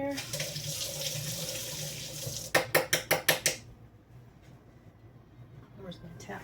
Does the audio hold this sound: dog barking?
no